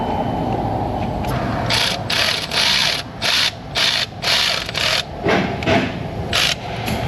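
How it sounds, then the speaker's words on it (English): Ratcheting clicks from a wrench snugging a nut on a Corvette big-block engine during water pump work, coming in short bursts of close, steady clatter with brief pauses between, and no voices. "And I don't want to tighten it too much."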